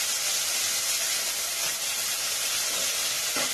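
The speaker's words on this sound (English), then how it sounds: "So I'm going to put the saltfish in now. And fry them up." Saltfish frying in a hot pan, giving a steady broadband sizzle and hiss that holds level throughout, with a few faint clinks near the end.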